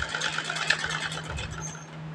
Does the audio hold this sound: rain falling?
no